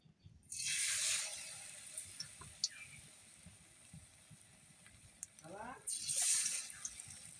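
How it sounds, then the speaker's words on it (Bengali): Boras (fritters) go one by one into hot oil, each drop setting off a burst of sizzling hiss that fades to a quiet bubbling, with a soft voice murmuring in the background. "তেলটা গরম হয়ে গেছে, এখন বড়াগুলো এক এক করে দিয়ে দিবে।"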